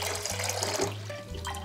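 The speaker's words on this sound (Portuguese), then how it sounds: "Agora a gente pega uma panela com água." Water splashes and runs into a cooking pot in a home kitchen while making ice cream, a close, continuous pour with a low rumble underneath and no talking.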